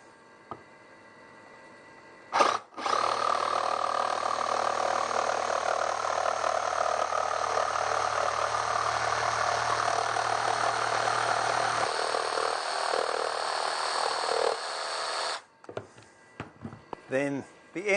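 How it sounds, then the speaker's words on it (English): Jigsaw cutting through wood for a saddle stand, a loud steady buzzing drone running continuously for about twelve seconds before stopping, with a few brief knocks and clatters around it. "In this case, I think I'll use a jigsaw."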